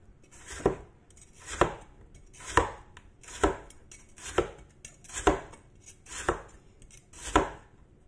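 A knife thinly slicing bitter gourd on a cutting board, eight crisp, evenly spaced chops in a steady rhythm, close and clear with no talking.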